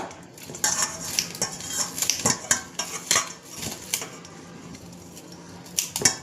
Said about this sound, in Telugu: అలానే కొత్తిమీర కూడా అలానే కట్ చేసుకోవాలి చిన్న చిన్న పీసెస్ లాగా